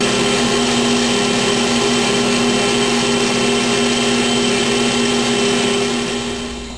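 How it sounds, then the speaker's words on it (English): Electric mixer whipping egg whites for a healthy pavlova as sugar goes in a spoonful at a time, a loud steady motor whine droning throughout and easing off slightly at the very end. "I'm going to add that 1 tablespoon at a time while the machine is beating."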